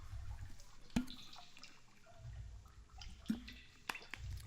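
Water drips and trickles in a quiet stone chamber in the video game Myst: a few sparse, distinct drops stand out over a soft, low background.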